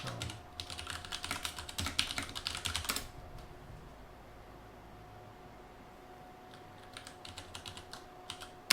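Rapid typing on a computer keyboard for a terminal command, a dense burst of clicks for about three seconds, then quiet with a faint fan hiss, followed by a few more scattered keystrokes near the end.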